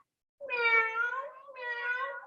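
A human voice imitates a cat's meow twice during a family yoga session, two drawn-out tonal meows close to the mic with a short break between, fairly quiet and with no other talk.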